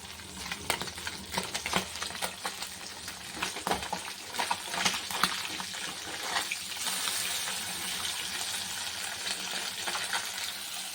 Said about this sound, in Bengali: এরকম মাছ ভাজাটা বসিয়ে দিয়েছি